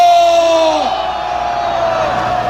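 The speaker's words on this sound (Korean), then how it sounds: "우리 같이 힘을 내기 위해서 한번 함성을 질러봅시다" A rally crowd yells in unison, a loud, drawn-out cry that tails off within the first second, leaving a sustained rumble of many voices continuing behind it.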